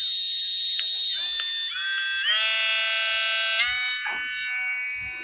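A Katerk mini cordless 5-speed rotary tool grinds an edge back onto a scraper. Its thin, high whine runs close and steady, stepping up and down in pitch several times, with faint scrapes of contact near the end.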